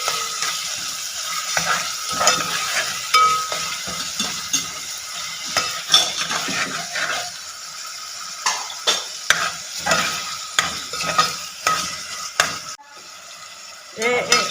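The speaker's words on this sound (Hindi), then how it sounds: "इसे अच्छी तरह भूनना है चिकन को" Chicken pieces with garlic sizzle and fry in a pan for a moong dal chicken dish, with steady crackling and intermittent stirring and scraping of a utensil against the pan.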